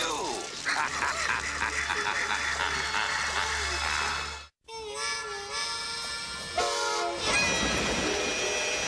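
A train in a Biker Mice From Mars cartoon rumbles loudly with horn blasts and rolling clatter, mixed with dramatic music and characters talking.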